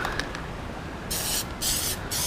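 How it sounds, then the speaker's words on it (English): Short hissing bursts of aerosol plastic dip spray on a car dashboard, three or four quick pulses close by, with quiet background between them. "You're going to spray nice even coats."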